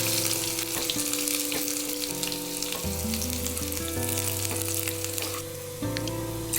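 A tempering of chopped onion and curry leaves poured into idli sambar crackles in a loud, dense sizzle, close and continuous, with a faint tonal hum running beneath it.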